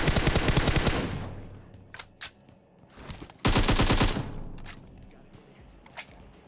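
Automatic rifle fire rattles in fast loud bursts during a PUBG Mobile match in Pochinki, with a long burst at the start, a few isolated shots and thuds, then another heavy burst and scattered single shots.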